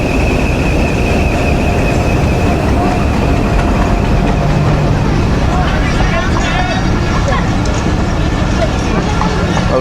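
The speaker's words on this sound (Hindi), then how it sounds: "अराइवल आप देख रहे हैं 11 अप हज़ारा एक्सप्रेस का लूप लाइन पे आ रही है।" Hazara Express, led by locomotive HBU 28038, rolls onto a station loop line with a loud, continuous rumble of wheels and carriages and a faint squeal, while someone talks over it.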